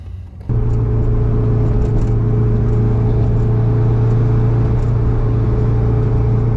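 A boosted K24 AWD Acura RSX Type S drives along with a steady, loud engine drone and low rumble, starting abruptly after a brief quiet moment and holding even to the end.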